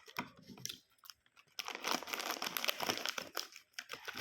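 A cheese-flavored snack package is torn open and crinkled up close, starting with a few soft rustles, then a long, dense stretch of loud plastic crackling.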